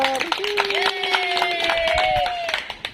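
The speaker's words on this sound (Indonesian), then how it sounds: "Tepuk tangan pada Esther." Scattered hand clapping from a group of schoolchildren, mixed with lively voices and chatter in a room.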